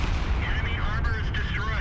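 Tank cannon fire in the World of Tanks video game, a dense booming rumble with layered gunfire-like blasts filling the whole moment, loud and continuous with game effects over it.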